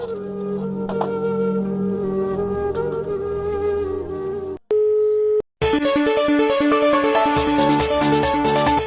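A mobile phone sounds off with an incoming call, a steady tonal ringtone of layered electronic notes that breaks off briefly before resuming more fully.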